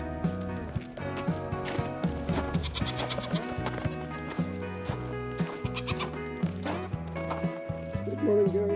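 Goats bleat in their enclosure, several overlapping cries close by, with clucking chickens mixed in and a person speaking among them.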